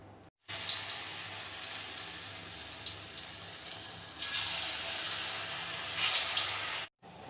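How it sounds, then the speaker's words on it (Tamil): Hot oil hisses and sizzles steadily as mushrooms deep-fry close by, the crackle swelling louder partway through, with no talking. "இப்போ எண்ணெயில் போட்டு பொரித்து எடுத்துக்கலாம்"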